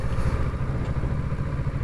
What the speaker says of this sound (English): Sounds good. Good engine.